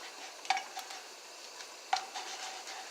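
Bread toasting in a pan with Land O'Lakes sweet cream butter, a soft low sizzle with two sharp clinks of a utensil against the pan, fairly quiet and without speech.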